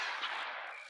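A single gunshot from the video game Granny 3 gives a short, sharp blast that fades quickly. It is heard alone, with no talk.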